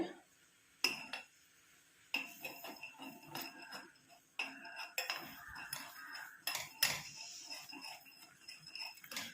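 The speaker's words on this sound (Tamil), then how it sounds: "கொஞ்சம் இந்த மாதிரி நல்லா மிக்ஸ் பண்ணி விட்டுக்கிட்டே இருக்கணும்" A spoon scrapes and clinks against a bowl while homemade skin cream is stirred, irregular taps and light metallic chinks repeating close by over a faint room hum.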